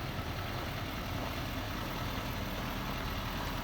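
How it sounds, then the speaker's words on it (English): A 2020 GMC Sierra HD Denali's Duramax diesel engine idles steadily nearby, a constant low rumble with a faint clatter and no change in pace, no talking. "that's the Duramax diesel"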